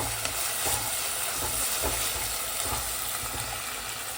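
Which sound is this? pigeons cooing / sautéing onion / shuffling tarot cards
sautéing onion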